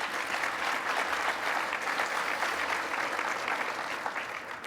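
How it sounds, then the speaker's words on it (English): A gala awards audience applauding, a steady, dense wash of clapping from a large crowd indoors that holds evenly and tapers slightly at the end. "so please give yourselves a round of applause"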